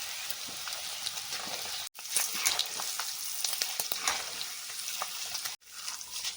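Sabudana pearls frying in hot oil, a steady dense sizzle with crackling bubbles that continues throughout, briefly dropping out twice.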